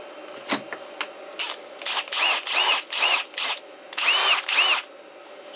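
An FIW F12 Stubby compact cordless power tool runs in short trigger bursts, its motor whining up and down about eight times in quick succession, close and fairly loud, with quiet gaps between pulls.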